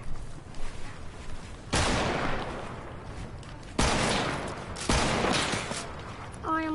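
Video game gunfire breaking out in three loud bursts of rapid shots, with quieter stretches and a brief electronic tone near the end.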